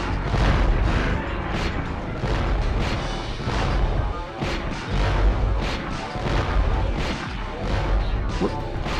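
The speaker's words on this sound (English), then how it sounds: "Hit him with mortars." Mortar explosions in a 1998 PlayStation game boss fight: a dense, continuous barrage of loud booming blasts and crashing impacts with hardly a pause over nine seconds.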